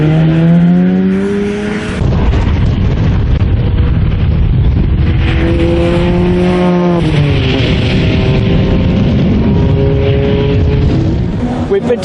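Rally car engines drone loudly at close range, holding high revs with pitch shifts as gears change and cars pass, while someone talks over the noise.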